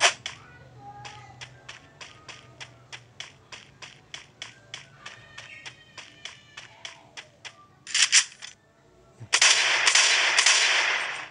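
Gunfire in a shooting video game: a steady run of sharp, crisp shots about two or three per second, then a short noisy burst and a louder rushing blast near the end.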